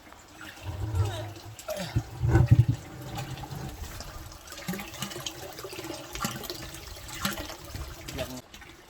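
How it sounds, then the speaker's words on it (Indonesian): Clear spring water runs and splashes at a mountain spring on Mount Sumbing, a steady close gurgling flow with a few bubbling bursts, while people talk nearby. "Kita lihat mata airnya."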